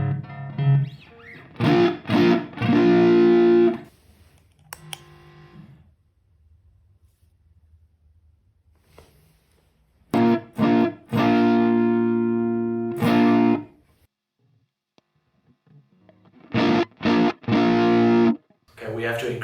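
Electric guitar through a fuzz pedal plays loud, distorted bursts of chords and notes separated by near-silent pauses, heard alone without voices.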